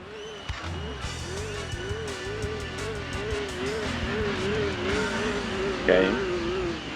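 Race cars roar around a track in the racing game Gran Turismo 2, with an engine note rising and falling through repeated gear shifts, steady and loud with a brief louder burst near the end.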